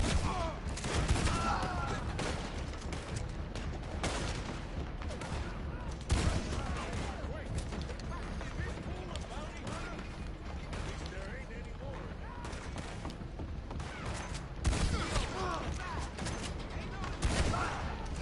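Rifle and handgun fire in Red Dead Redemption 2 Online, sharp shots popping in irregular bursts throughout, with several louder cracks standing out, mixed with faint voices.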